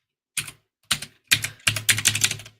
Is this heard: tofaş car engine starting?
no